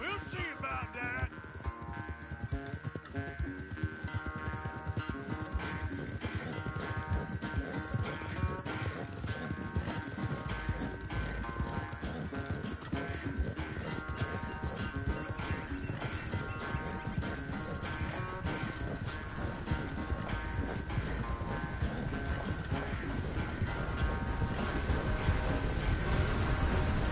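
Rhythmic clip-clop of a horse's hooves at a steady pace while riding in Red Dead Redemption 2, continuous and under a sustained musical score, slightly louder toward the end.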